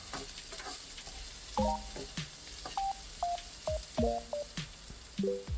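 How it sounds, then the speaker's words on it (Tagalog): Ginger and white onion sauté in a pan for ginataang monggo, giving a soft sizzle broken by short clattering stirs and a few clear, high tonal beeps nearby. "sunod naman natin sa pagisa itong luya para mas mabango pagkatapos ng luya itong sibuyas na puti"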